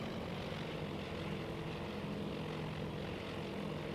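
Propeller engines of WWII torpedo bombers in the naval strategy game Task Force Admiral, a continuous droning roar with a low throbbing pulse, steady and fairly loud throughout.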